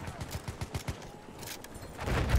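The Villar Perosa submachine gun in Battlefield 1 fires a fast, evenly spaced rattling burst of about a second, followed by a pause and then heavier rumbling battle noise, with no talk.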